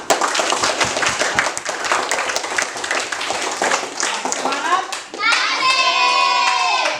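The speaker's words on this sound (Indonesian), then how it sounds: "Kita berikan tepuk tangan." A class of schoolchildren applauding their discussion groups, several seconds of loud, close, dense clapping that thins out before children's voices take over.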